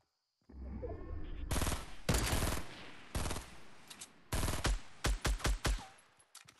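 Gunfire in Fortnite comes in irregular salvos: a couple of sustained rapid bursts early on, then a run of short, sharp, separate shots toward the end, all loud and close.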